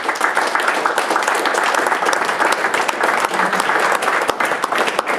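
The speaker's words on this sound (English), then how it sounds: "Give yourselves a round of applause" A school community gathering applauds itself over an accreditation report, a loud, dense burst of many hands clapping that stays steady and close for several seconds, with a few voices faintly mixed in.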